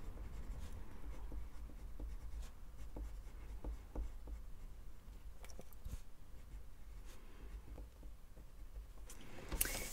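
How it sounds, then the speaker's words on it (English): Sharp colored pencil scratching steadily across paper while fine lines are drawn, a soft continuous close-up rasp with small tapping accents and no talking. "I'm able to get some lovely fine lines because I am using a sharp pencil"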